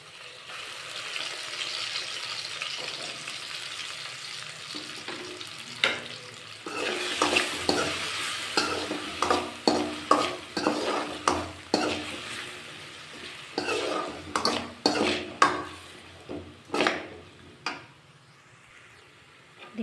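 Green chili and cumin paste sizzles in a pan for a spicy potato curry while a spoon stirs and scrapes it in irregular bursts, the frying hiss steady underneath and nobody talking.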